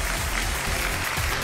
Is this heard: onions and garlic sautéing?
no